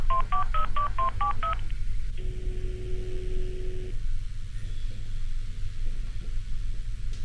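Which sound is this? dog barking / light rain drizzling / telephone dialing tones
telephone dialing tones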